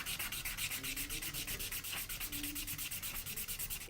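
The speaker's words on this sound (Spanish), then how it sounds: "lo más sencillo es tener una lija de estas que se usa al agua, y lo lijamos." A stone is rubbed back and forth on wet waterproof sandpaper in steady rapid strokes, about six per second, close and loud and rasping with no talking.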